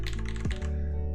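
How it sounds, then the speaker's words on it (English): Keys clack on a computer keyboard built with Cherry MX Black switches, a quick run of crisp keystrokes over a low steady hum, ending in a clean decay. "Sounds like a keyboard."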